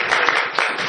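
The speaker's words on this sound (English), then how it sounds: "That's right, you can clap for me." A theatre audience claps for an actor on stage, a short dense burst of applause heard close and fairly loud.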